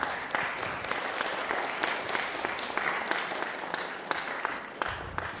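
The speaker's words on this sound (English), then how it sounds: "give yourselves a round of applause if you don't mind." Dense, steady applause from a concert audience filling the hall evenly from start to finish, with sharp individual claps popping out over the broad wash of hands.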